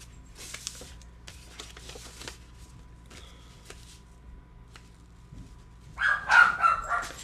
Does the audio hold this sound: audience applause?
no